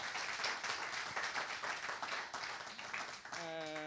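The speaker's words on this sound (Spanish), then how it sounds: "¿Podemos aplaudir?" An audience at a public conversation event with actor Carlos Bardem claps in a sustained round of applause, fairly faint and distant, with voices mixed in and a short tone at the end.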